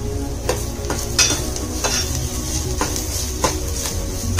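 Onion and turmeric being sautéed in a pan give a steady close sizzle, broken by repeated sharp scrapes and clinks of a spoon stirring against the metal, with no voices.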